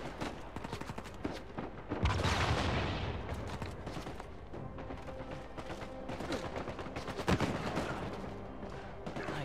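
Gunfire rattles through a firefight in Uncharted 4, with rapid bursts of shots, a louder blast near the start and another single heavy shot later, all over dense combat noise.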